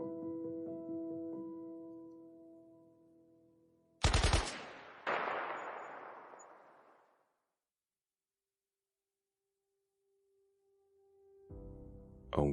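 A sustained tone fades out, then two loud gunshots crack in quick succession with long echoing tails, followed by silence and another tone before a third shot.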